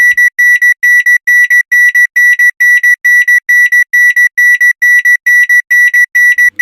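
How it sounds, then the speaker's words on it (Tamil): A loud electronic alarm clock beeps in a rapid, steady pulsing pattern, high-pitched and continuous, with no voices. "அலாரம் அடிக்குது."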